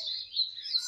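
A caged male coleiro (Sporophila) songbird, tending a female, gives a bright, high, thin chirping call lasting about a second, close and clear with no voices.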